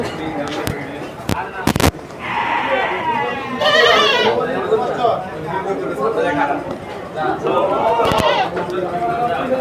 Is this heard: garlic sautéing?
no